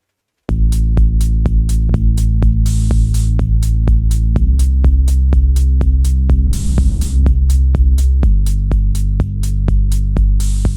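Deep, sustained bass line soaked in reverb, playing loud and alone as a run of steady throbbing notes that shift pitch every few seconds over a sharp repeating tick.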